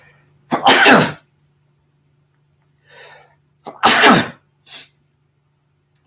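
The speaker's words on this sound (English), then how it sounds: "I think I'm going to sneeze." Two loud, sharp sneezes close by, each with a short breathy lead-in, separated by a few seconds of quiet and small sniffs.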